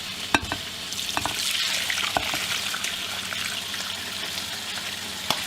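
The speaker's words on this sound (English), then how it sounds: "put this on the stove, and we're going to let it simmer in here for a couple of hours" Beef shank simmering in a pot on the stove makes a steady bubbling hiss up close, broken by a few sharp clinks and light knocks, with no one talking.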